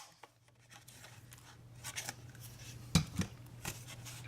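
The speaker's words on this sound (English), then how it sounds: "we're going to take our 1 1/4 punch, circle punch, and we're just going to put a little notch on it" A 1 1/4 inch circle punch notches a gift card holder of paper in a quiet crafting setting, giving a sharp crisp snap near the end followed by a smaller click, with soft rustles and handling noises before it.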